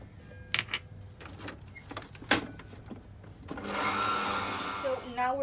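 An electric mixer runs on low speed through gluten-free lemon and vanilla cake batter, a steady whirring motor hum that rises after a few scattered clicks and clatters.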